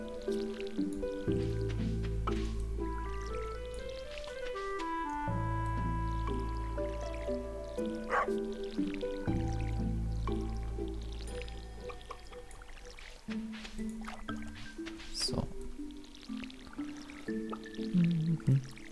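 Watering crops with a watering can in Stardew Valley: repeated soft squishing, dripping splashes of water sit over steady, looping background game music, with the watering sounds recurring throughout.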